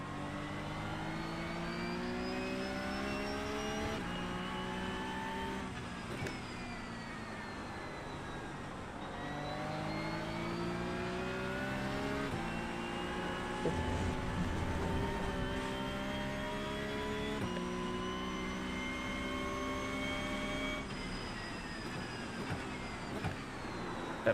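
Porsche Cup race cars in iRacing at Donington Park hold a steady, high-revving engine drone with rising and falling gear pitches as several cars run close together, continuous for over twenty seconds with no talk.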